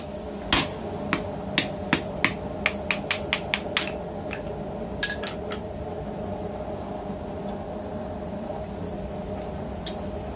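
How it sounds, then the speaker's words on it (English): A blacksmith hammers a bevel chisel to slit the eye of a hammer head, with sharp metallic strikes in a quick irregular series early on, then a few scattered blows, over a steady forge or workshop hum. "So I mainly wanted to show here the slitting with that chisel and then the subsequent drifting of this hammer on."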